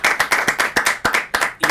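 Clapping at a book discussion gathering, heard as a quick run of about a dozen sharp, evenly spaced claps, close and loud, sounding like a small group or a few hands rather than a large crowd.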